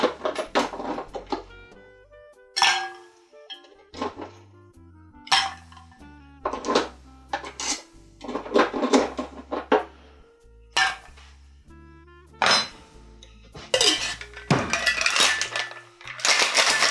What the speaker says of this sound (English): The next thing we're going to do is add some ice to this and give it a nice shake.